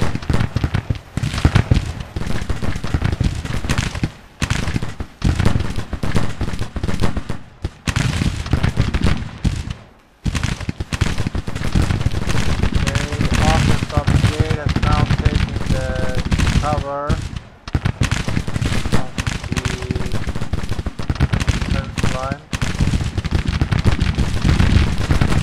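Video game gunfire from shooting enemies: a dense, sustained barrage of rapid shots that runs almost without a break, dropping out briefly twice, with some tonal game sounds mixed in.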